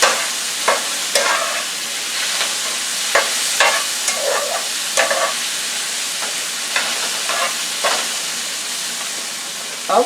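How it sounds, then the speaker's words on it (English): Vegetables are stirred in a hot pan for oven-baked rice, with a constant hiss and sizzle broken by repeated spatula scrapes and clacks at an uneven pace, close by. "let's stir up our vegetables"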